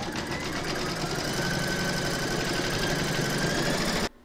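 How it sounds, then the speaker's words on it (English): An embroidery machine stitches a baby-feet appliqué sampler held in a hoop, a steady mechanical whirr with a fast needle chatter running loud and continuous for about four seconds before stopping abruptly. "Pop your hoop into your machine and stitch round number two to secure them."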